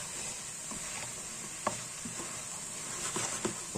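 Food frying on a ceramic glass stovetop with low-powered burners, giving a steady soft sizzle under a few light utensil clicks and scrapes, close and fairly quiet, with no talking.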